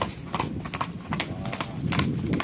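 Horse hooves clip-clop on pavement at a busy festival, a steady rhythm of close, crisp strikes over the murmur of a crowd.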